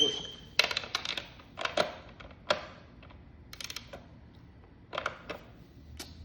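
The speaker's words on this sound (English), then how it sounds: "Keep your hand always on the ratchet." A ratchet working on truck settings gives a scattered run of sharp metallic clicks and ticks, with irregular bursts spaced across a few seconds against a quiet background.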